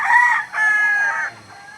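Rooster crowing loud and close among chickens at the Lipa auction market, two drawn-out crows in quick succession, then quieter fowl sounds.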